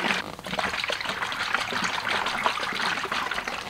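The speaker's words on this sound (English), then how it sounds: "So the first thing you want to do is just shake up the bottle." A bottle of Koch Chemie Leather Star leather conditioner is shaken close by, giving a steady, continuous liquid sloshing and rattling for about four seconds with no talk.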